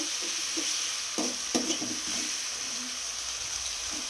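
Ginger garlic paste sizzles and fries in a pan as it browns, a steady hiss with a few brief stirring scrapes and knocks, close and alone.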